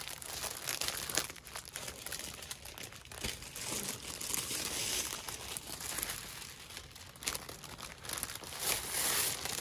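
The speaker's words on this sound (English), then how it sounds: "Maybe a piece of tissue paper over here." Tissue paper crinkles and rustles steadily while a holiday gift is being wrapped, with soft, close crackling and small bursts of crumpling that go on throughout and no talk over it.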